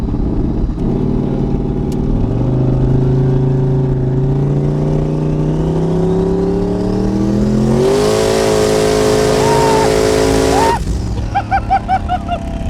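A sports car engine revs up hard, pitch climbing steadily as it accelerates, then surges louder before easing off, close and loud inside the car.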